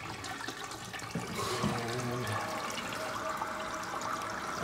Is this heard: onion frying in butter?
no